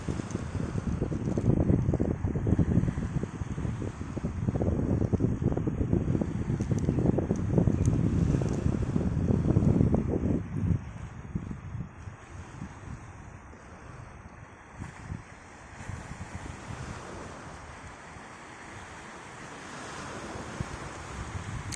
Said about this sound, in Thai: ลมพัด เย็นสบายน้ำทะเล กระทบฝั่ง เป็นระยะระยะ